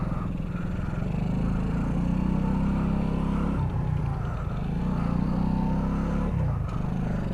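Kuba RX9 four-speed motorcycle riding in the evening, its engine droning close and loud, pitch rising as it revs, then dipping briefly at each of two gear shifts before climbing again.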